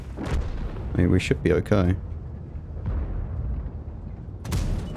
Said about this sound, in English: I'm just worried about artillery now, honestly.